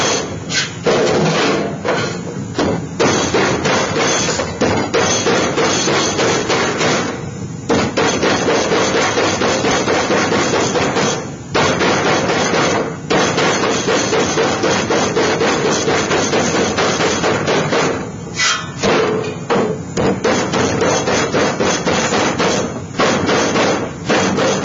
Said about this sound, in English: I can just hammer the rest of the Pittsburgh over.